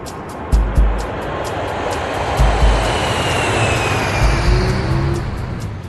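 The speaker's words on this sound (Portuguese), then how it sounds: "estão acostumados ao som dos jatos decolando e pousando" A steady, broad roar of a distant jet engine near Heathrow, from aircraft taking off and landing, with a faint rising whine and a few low thumps near the start.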